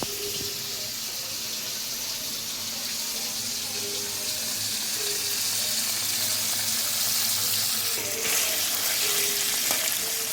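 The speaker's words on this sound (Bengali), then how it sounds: "হালকা লবণ হালকাভাবে পনিরটা ভেজে নিতে হবে" Paneer frying lightly in a pan with salt, a steady broad sizzle that holds evenly and close throughout, with faint clinks of a utensil now and then.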